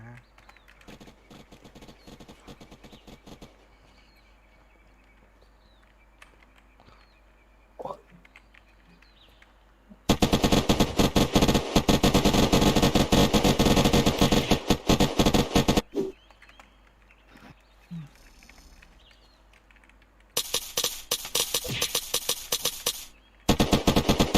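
Gunfire in Unturned: two long, loud bursts of rapid automatic fire sit between quieter stretches with scattered faint shots, and another burst follows near the end.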